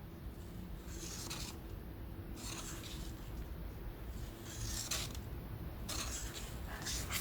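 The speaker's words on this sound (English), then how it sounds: "now when we open the card, all of our things move around" A handmade swivel pop-up race car card is opened, giving soft papery creaks and rubbing scrapes that repeat in several quiet bursts over a steady low background hum.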